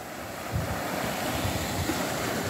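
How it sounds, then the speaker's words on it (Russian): Waves break steadily on a beach by the Adriatic Sea, a broad continuous wash of surf mixed with wind noise on the microphone, close and fairly loud with no talking. "Вот еще идет волна."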